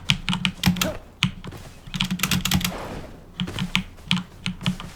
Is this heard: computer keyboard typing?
yes